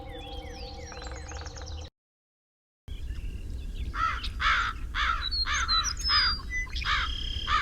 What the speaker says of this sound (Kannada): ಕಾಗೆ ಬೆಳಿಗ್ಗೆಯಿಂದ ಕಿರಿಸ್ತಾನೆ ಇದೆಯಲ್ಲ